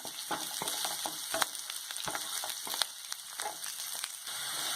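Soya chunks sautéing in a pan, a steady broadband sizzle with scattered scraping stir clicks from a spatula, close and continuous with no voices.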